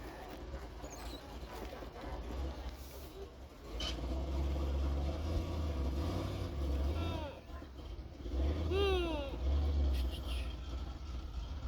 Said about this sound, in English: Just started that pickup over there.